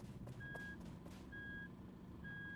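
In the video game RV There Yet, a vehicle backing up emits three evenly spaced reversing beeps over a low engine rumble and brief clatter, fairly quiet overall.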